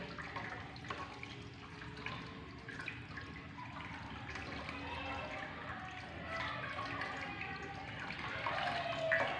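Running tap water splashes steadily into a sink while hands rinse beneath it, the flow slightly louder toward the end.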